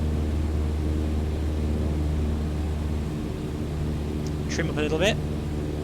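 Steady, droning propeller engine of a Cessna 152 light aircraft easing off power on approach to the runway in a flight simulator, a continuous hum that drops slightly, with a brief spoken remark near the end.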